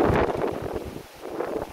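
Strong storm wind in Serra, Espírito Santo, roaring steadily across a microphone with low buffeting gusts that ease briefly midway, loud and continuous with no voices.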